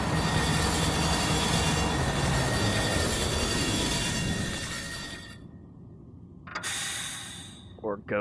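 A train in the video game Estranged: Act 1 rumbles steadily along its rails, loud and continuous, then fades into quiet, and a few short breathy sounds follow near the end.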